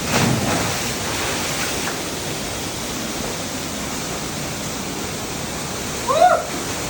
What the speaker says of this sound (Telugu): finally at secret water falls